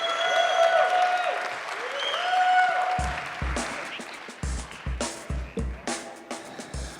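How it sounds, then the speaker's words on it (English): Applause from a live show audience swells loudly for a few seconds, then thins into scattered claps and thumps as it dies away, with faint voices underneath. "Let's give these three a round of applause."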